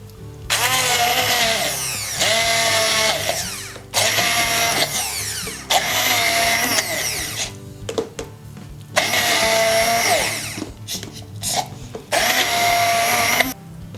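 A kitchen blender whirs loudly in repeated pulses, grinding ingredients for edible decorative leaves, with short pauses between each burst.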